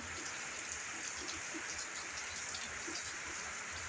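Steady rain falling outdoors on a farm, a continuous soft hiss of drops on surfaces with faint bird sounds now and then and no talk.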